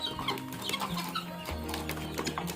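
Guinea fowl at midday feeding on finely chopped sweet grass give soft, scattered clucks and chatter close by, with faint shuffling and a low hum underneath.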